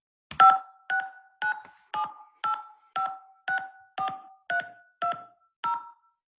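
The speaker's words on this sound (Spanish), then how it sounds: "¿han escuchado sonidos como este tipo cuando ustedes están marcando por teléfono?" Eleven crisp telephone keypad tones sound close and clear as a mobile number is dialed. They come in a steady, evenly spaced rhythm with nothing else in the background.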